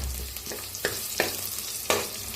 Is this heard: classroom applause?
no